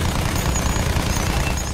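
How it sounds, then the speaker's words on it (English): Aircraft strafing gunfire in the Battlefield 1 video game, a brief, dense rattle of rapid shots blending into a steady roar, loud and continuous with no talk. "this dude's strafing everywhere"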